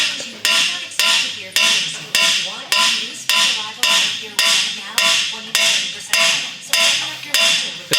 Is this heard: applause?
no